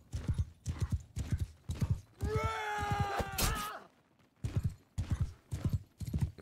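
A horse in the video game Mount & Blade II: Bannerlord gallops in quick, rhythmic hoofbeat clusters, breaking midway into a loud, wavering neigh before the galloping resumes.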